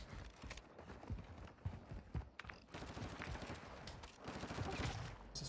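Rapid gunfire crackles through a PUBG-style shooter video game, bursts of repeated shots and quick fusillades at a moderate distance, nearly continuous over a few seconds with footstep-like thuds between.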